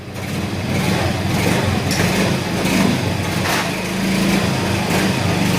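A motorcycle engine left two years in storage runs steadily and loud at close range, a continuous even drone with slight surges, no voices over it.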